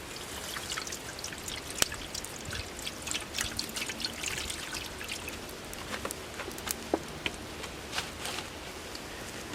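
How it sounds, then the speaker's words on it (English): Water trickles and pours steadily into a pot holding a pork rump roast at a campsite, a soft, close, continuous splashing with scattered drips. "And then we're going to add some water."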